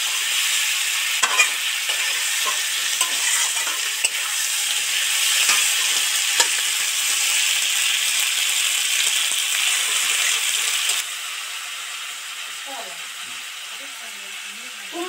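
Spices and pumpkin fry in hot oil for a Bengali labra, giving a loud, steady close sizzle that eases slightly near the end, with faint stirring scrapes underneath.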